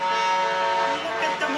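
A line of trucks passes on a road in Antofagasta, Chile, their horns sounding in sustained tonal blasts that shift pitch as they go by, loud and fairly close with traffic rumble underneath.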